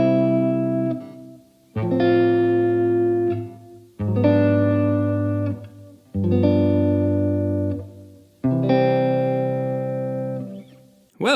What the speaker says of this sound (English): this new chord is formally an augmented sixth chord